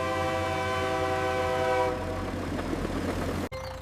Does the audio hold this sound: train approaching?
yes